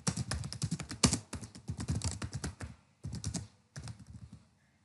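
Typing on a computer keyboard in quick close bursts of soft key clicks, with short pauses between words and a trailing quiet at the end.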